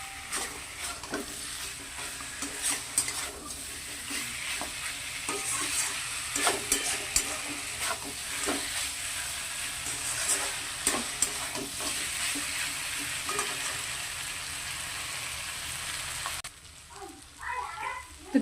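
Mutton sautéing in oil after the meat has released its fat: a long, close sizzle with repeated scraping and knocking strokes of stirring, cutting to a quieter, sparser stretch near the end.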